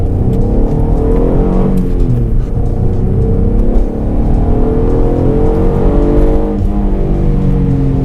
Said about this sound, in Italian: Già solo il sound del motore vale l'acquisto